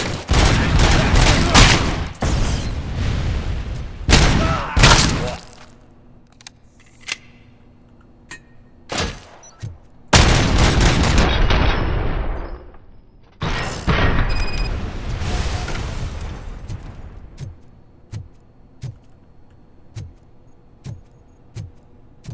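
Loud gunfire in RoboCop: Rogue City: rapid bursts of automatic fire and heavy blasts come in two main waves with quieter gaps and scattered single shots between them, and there is no talking.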